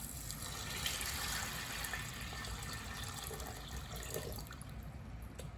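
Water poured or running into an Instant Pot, a steady close rushing gush lasting the whole stretch with no talk.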